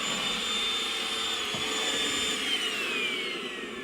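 A vacuum cleaner runs continuously nearby with a loud, steady whining roar whose pitch drifts slightly lower toward the end.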